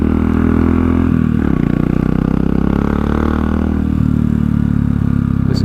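Royal Enfield Classic 500 single-cylinder engine thumping steadily while riding, a loud, continuous low rumble with a brief dip in revs partway through, heard up close and alone.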